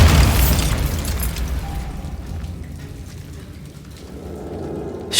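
A Bombarda exploding spell in Hogwarts Legacy, a loud booming blast up front that decays into a rumbling tail of debris and fading echo.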